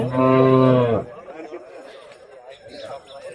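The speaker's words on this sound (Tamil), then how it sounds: "சென்னிமலை ஏரியாவிலேருந்து அருமையான மயிலை கிடாரி ஒன்று கொண்டாந்துருக்காங்க" A cow moos loudly once with a long harmonic call at a Tamil Nadu cattle market during Pongal, followed by distant crowd chatter and murmured voices.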